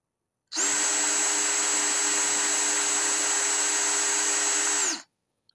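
A DeWalt DCD709 brushless cordless drill runs at speed 1 on an original DeWalt battery, a steady high whine that starts abruptly, holds evenly for about four seconds and stops cleanly, with no talk.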